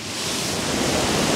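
A forest waterfall roars as a dense, steady rush of falling water during a rainstorm, loud and close for about a second and a half, with no speech.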